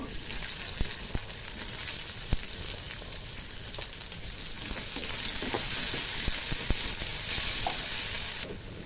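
Chopped onion, added after ginger and garlic, crackles and sizzles in a pan as pasta is prepared, with a utensil clacking and scraping now and then; the frying grows a bit fuller partway through, close and with no voices.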